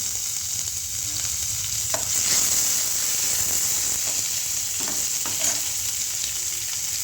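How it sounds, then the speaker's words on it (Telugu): Onions and curry leaves fry in a pan for a potato curry, giving a steady close sizzle with a constant bright hiss and a few soft stirring scrapes, and no talk. "ఉల్లిగడ్డలు వేస్తున్నాను. కరివేపాకు వేసాను."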